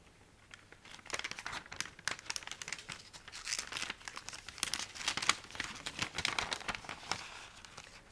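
Paper sewing pattern being folded by hand, a continuous close crinkling and rustling with sharp crackles, busy and uneven throughout with no talk.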